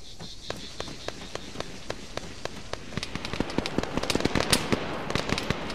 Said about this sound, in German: warum schießen die denn auf mich?